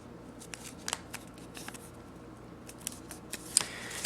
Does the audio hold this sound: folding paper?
yes